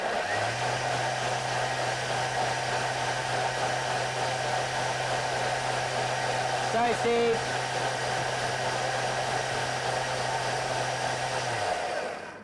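A blender whirs steadily for about eleven seconds while blending a cup of milk for a milkshake in a kids' cooking class, loud and even, then cuts off. A brief spoken apology is heard near the end.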